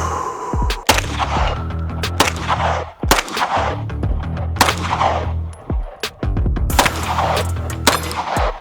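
Sharp, loud Beretta pistol gunshots fired outdoors on open land, a shot every second or so with short gaps, each crack followed by a brief ringing echo; close to the listener, no speech.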